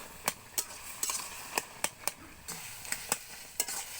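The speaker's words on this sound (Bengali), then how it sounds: "এরপর আমরা খুন্তির সাহায্যে এইভাবে মাখা মাখা করে নেব" Boiled pumpkin and vegetables being mashed with a metal spatula in a pan, a series of sharp, evenly spaced scraping taps and clinks against the pan, close and fairly quiet with no talking.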